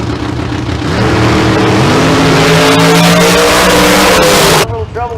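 A bracket drag racing car at Famoso Dragstrip roars loudly and steadily with rising engine pitch, then cuts off abruptly near the end as an announcer talks over it.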